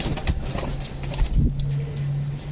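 Saki Teddy pigeons at a pigeon market make low, rhythmic cooing close by against a busy outdoor background, with no one speaking.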